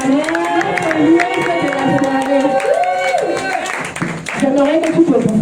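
Church congregation at a French-language worship service cheering and applauding, with a loud mix of shouts, clapping and raised voices carrying through the whole stretch.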